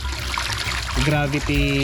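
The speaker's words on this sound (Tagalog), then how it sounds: "So kung ganito kalakas na tubig, mas mabilis niyang kargahan." A Pedrollo water pump sends a strong stream of water into a raised drum tank, a steady rushing flow heard close, with someone speaking over it.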